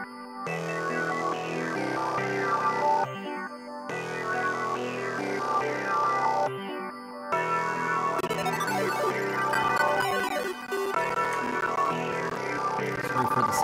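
A synth melody from a trap beat plays by itself, bright layered tones that cut out briefly a few times before resuming, with a denser, glitchy stretch later on.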